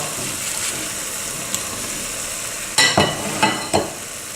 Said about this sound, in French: Donc là, on va bien venir mélanger la préparation.